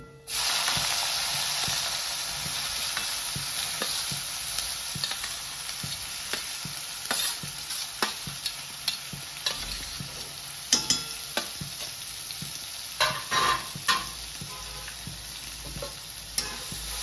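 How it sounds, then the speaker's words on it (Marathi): Chopped onion dropped into hot oil with turmeric for jhunka, bursting into a loud, steady sizzle that eases slightly as scattered spoon clinks and stirring scrapes follow. "आणि आता आपण कांदा टाकणार आहे तेलामध्ये"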